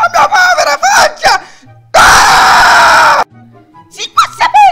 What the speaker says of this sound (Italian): Si può sapere chi sta gridando?